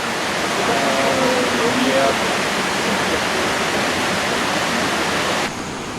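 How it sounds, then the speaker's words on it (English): Steady broadband hiss of humid rain falling on a Kokoda expedition, a dense, even wash that drops slightly in level near the end. "As the rain fell"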